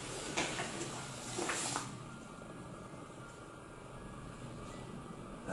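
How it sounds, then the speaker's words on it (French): A broad rushing whoosh of wind gusts through a building, with a couple of louder swells early on before settling into a steady low roar. "c'est le vent qui s'engouffre"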